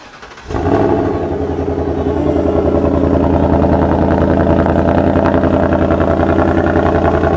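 A Ford Mustang V8 fitted with a single muffler fires up and settles into a loud, deep, burbling idle, the throbbing exhaust pulses steady and close for several seconds without talk.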